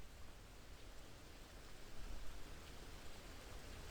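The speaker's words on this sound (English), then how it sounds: "You can hear the rain too." Steady broadband rain hiss in the X-Plane 11 flight simulator, soft and even with a slight swell midway, no voices.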